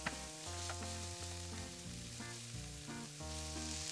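Onions frying in olive oil make a faint, steady sizzle with a few brief louder bursts, heard beneath a quiet tonal background.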